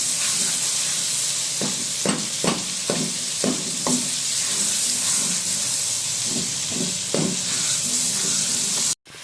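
Red chili stirred into a sizzling cabbage dish in a frying pan, with a steady hiss of hot oil and a run of sharp scraping strokes from the spoon, close and loud.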